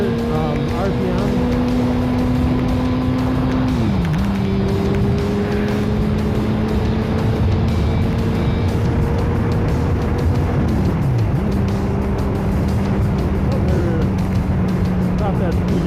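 A sportbike engine revs high and steady while riding, its loud droning pitch dipping briefly twice as the rider shifts, with wind rush throughout and no speech.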